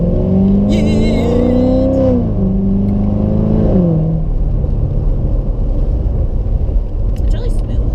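A Corvette with paddle shifters revs its engine in a loud, close rising and falling drone, then settles into a rough driving rumble while people talk over it.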